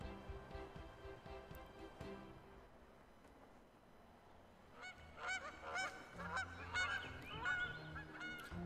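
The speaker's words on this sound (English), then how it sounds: "Oh, geese. Sounds like Canadian geese." Canada geese honking in the video game Townsmen, a flurry of loud repeated honks near the start, then a quieter gap before a louder, denser burst of overlapping honks that continues to the end.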